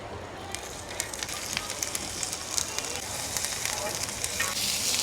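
Green chilies roasting in a little oil in a pan for spicy kharda, a steady dense sizzle with crackling pops throughout, close and fairly loud, no talking.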